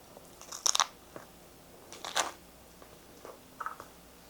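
Crisp bites into homemade pepperoni pizza, with two loud close crunches followed by softer chewing crunches, no talk over them.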